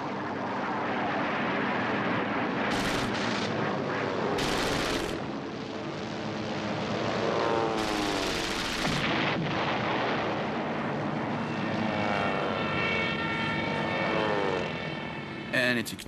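WWII bomber engines droning steadily, joined by bursts of fighter gunfire, with a loud continuous propeller roar under someone narrating in Spanish.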